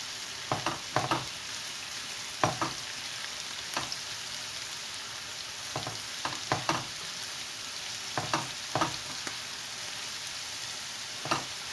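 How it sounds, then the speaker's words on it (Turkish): A spoon stirs mixed vegetables seasoned with red pepper flakes, black pepper and salt in a pan, giving sporadic close scraping taps over a soft, steady background hiss. "Hepsini bir karıştırıyorum."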